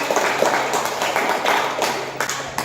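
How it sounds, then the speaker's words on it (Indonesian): Short burst of clapping for a child named Nafas at an Islamic religious gathering, a small group's scattered, uneven claps, fairly close, with faint voices in the background. "Tepuk tangan buat Nafas"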